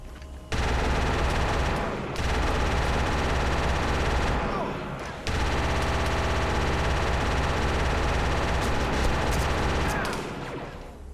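Rapid automatic gunfire from a Mandalorian shooter game, a dense, continuous burst running for most of the stretch and cut by brief pauses, loud and close.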